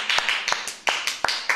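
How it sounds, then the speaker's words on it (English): A few hand claps from a small group or single person, about seven sharp close slaps in quick uneven succession, short and alone without talk. "You can applause now."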